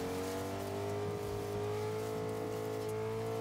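A truck drives in the video game Fortnite: a steady engine drone with a constant pitch that rises slightly, heard at moderate level throughout with no talk.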